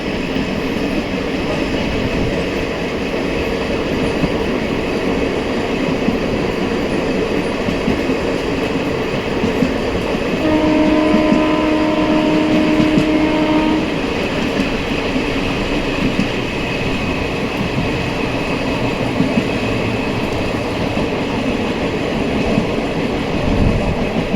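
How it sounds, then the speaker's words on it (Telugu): A steady low rumble and hum from a train standing outside a station, with a brief tonal whine partway through, constant and fairly loud, no talking. "స్టేషన్ అవుట్రస్లో ట్రైన్ ఆగి ఉండడాన్ని"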